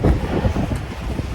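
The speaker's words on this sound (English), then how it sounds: "It's windy, I hope you can hear me." Gusty outdoor wind buffets the microphone with a continuous low rumble and uneven surges, loud and close, with no speech during the moment.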